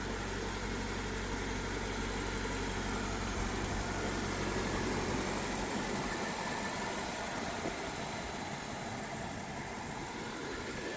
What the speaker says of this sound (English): And as you can see, it just idles perfectly.